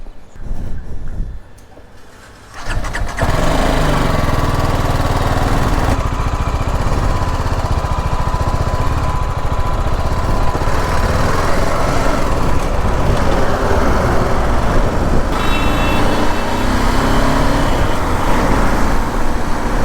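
A BMW G310 GS motorcycle starts off after a quieter moment, then its engine and road rush stay loud and steady while it is ridden along the road, with wind noise blended in.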